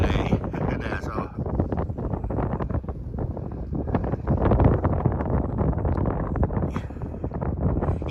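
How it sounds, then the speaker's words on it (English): A stiff breeze by a riverside buffets the microphone, making a continuous rough rumble with gusty bursts that swell and ease. "Boy, it is very breezy today."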